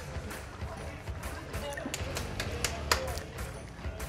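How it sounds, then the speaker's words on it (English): Crowd applause at a speedway memorial race meeting as a driver makes a lap of the track, steady scattered clapping heard at a distance with an announcer talking over it. "that's great that you're giving him applause"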